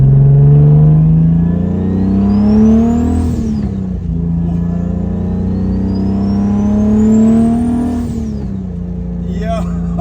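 Revving of a turbocharged BMW E30 fitted with a T51R mod: two loud, close rev pulls climb in pitch with a rising turbo whistle, each falling back to a rough idle.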